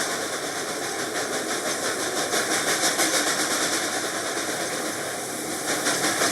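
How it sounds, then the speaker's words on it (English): Reading & Northern 2102 steam locomotive heard from inside the cab while working hard, giving a loud, continuous, dense roar with steady rapid pulsing throughout and no talk. "Verbal communication is pretty much impossible when an engine's working this hard."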